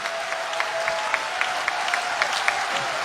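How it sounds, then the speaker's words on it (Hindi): An audience claps for the poet Sampat Saral at a comedy poetry event, dense steady applause from a crowd with a faint tone humming underneath. "एक बार जोरदार तालियां संपत सरल साहब के लिए"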